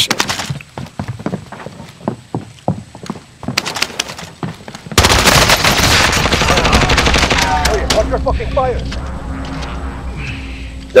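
Warzone gunfire: scattered sharp single shots and short bursts for the first few seconds, then a loud sustained barrage of heavy automatic fire with clattering effects that slowly tails off, with players talking.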